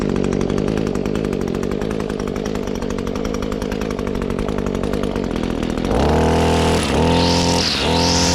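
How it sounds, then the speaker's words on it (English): A string trimmer cuts grass near a push mower, its small engine whining steadily in a dense buzzing drone, then revving higher and rising in pitch with repeated surges and dips toward the end; loud, close and continuous with no talk. "saw the weed whacker there"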